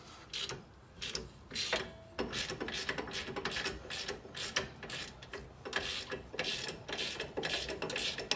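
A ratchet wrench undoing the 17mm bottom nut of a coilover on a Subaru WRX STI, a steady run of close, rapid mechanical clicks going on for several seconds.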